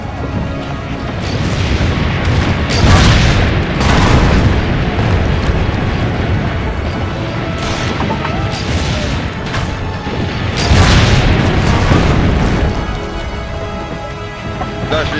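Loud, rumbling booms and crashing blasts of cannon fire in Assassin's Creed Brotherhood, repeating in heavy waves with a dense roar between.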